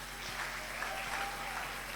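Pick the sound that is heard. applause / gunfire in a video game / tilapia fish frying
applause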